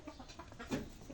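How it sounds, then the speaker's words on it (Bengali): Chickens on a farm clucking softly as they are let out of their coop in the morning, a brief, faint jumble of calls with one louder cluck near the end. "এই যে মুরগিগুলো সব বেরিয়ে যাচ্ছে, আরো ভিতরে আছে বেরোবে।"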